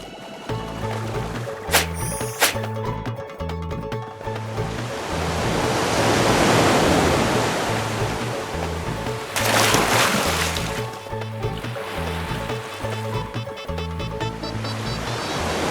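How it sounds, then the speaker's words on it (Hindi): A big cartoon sea wave crashes in a rising, rushing surge of surf that swells loudly and then subsides, with background music playing throughout. "बड़ी सी लहर बनाइए।"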